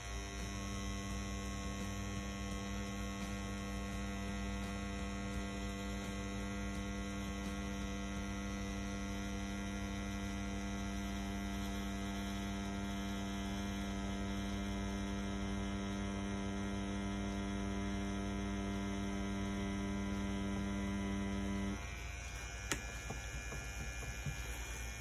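A CNC P6 rotary tattoo machine runs at 7.5 volts with a steady, continuous electric hum and buzz close up. It cuts off near the end, leaving quieter background noise.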